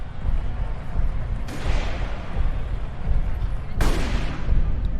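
Gunshots in archival footage of the Kennedy assassination in Dallas, 1963: two sharp, loud cracks a couple of seconds apart over a rumbling, noisy crowd background.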